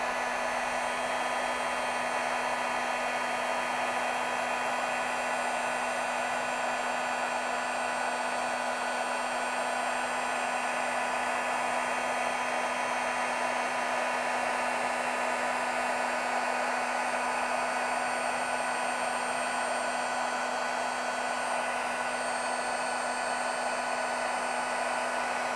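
A heat tool blows hot air onto a craft project, producing a loud, steady, close whoosh with a constant motor hum that runs unbroken for the whole stretch, with no talk.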